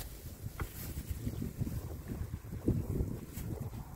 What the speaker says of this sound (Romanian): Bate un vânt.